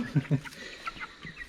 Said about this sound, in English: We got all the chickens inside out of the rain and wind, and they went right to the food